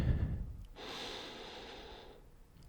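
A single slow, deep breath taken close by in a quiet, soft-spoken setting, a steady airy rush lasting over a second with quiet pauses on either side.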